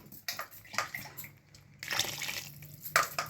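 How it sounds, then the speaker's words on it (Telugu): Water from a mixer jar used to grind masala paste is poured into a simmering curry, giving an irregular splashing and sloshing in several close bursts with no talk. "ఎన్ని వాటర్ కావాలో అన్ని వాటర్ వేసేస్తాను."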